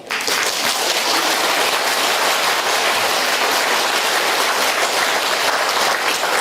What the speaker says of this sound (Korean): 여러분들 박수 치니까 이상하네